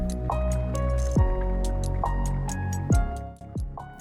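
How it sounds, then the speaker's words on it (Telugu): Water is poured into a cooking pot for semiya pulao made with soya chunks. Splashing and dripping go on steadily with a few sharper drops, fairly close and moderately loud, and no voices. "3 కప్స్ వాటర్ యాడ్ చేస్తున్నాను"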